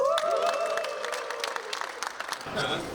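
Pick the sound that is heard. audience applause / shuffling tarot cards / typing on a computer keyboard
audience applause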